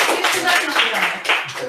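An audience applauds after a talk on supervised learning with a brief burst of mixed, fairly close clapping, and a voice speaks over it.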